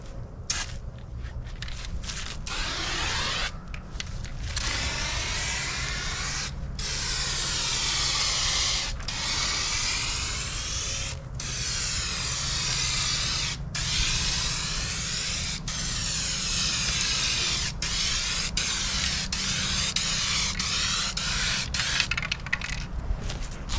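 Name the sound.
spray painting a car with gloss white paint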